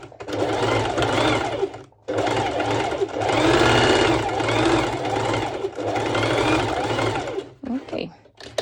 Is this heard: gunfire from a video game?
no